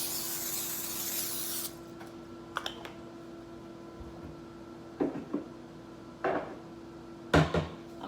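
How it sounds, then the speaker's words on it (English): A long hiss of aerosol cooking spray onto a cookie sheet, followed by a few light clicks and taps of handling in a quiet kitchen. "I've got a cookie sheet. I'm going to spray it really good."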